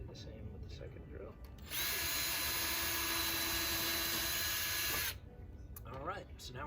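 A cordless power drill drives deck screws into reclaimed pallet wood for an Adirondack chair, a steady high whine lasting about three seconds at close range, with quieter workshop rustling before and after.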